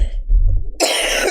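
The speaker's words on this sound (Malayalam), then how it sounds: "നല്ല ഡോൾബി സിസ്റ്റത്തിൽ ചുമച്ചു തുടങ്ങിയിട്ടുണ്ട്" A single harsh human cough, close and loud, opening with a low throaty rumble and breaking into a sharp noisy burst, alone without speech.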